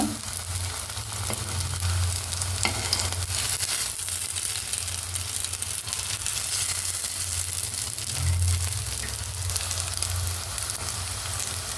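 Soya cutlets frying in a pan over a medium gas flame give a continuous, even hiss of sizzling oil that holds steady for the whole stretch, close and unbroken, with no voices.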